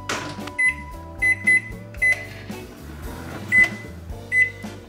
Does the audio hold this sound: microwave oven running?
yes